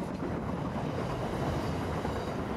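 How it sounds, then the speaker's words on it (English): A freight train rumbles past, its cars rolling by in a steady, dense roar that stays close and loud throughout, with no voices. "Freight trains operate across the country and around the world, carrying all sorts of cargo from place to place."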